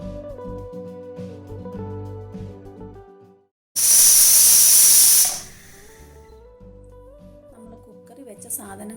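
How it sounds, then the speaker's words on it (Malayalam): A pressure cooker vents steam in a loud, close burst of hiss lasting about a second and a half, with someone talking before and after it. "അതിനുശേഷം കുക്കർ അടച്ച് ഒരു വിസിൽ വരുന്നിടം വരെ നമുക്ക് വെയിറ്റ് ചെയ്യണം."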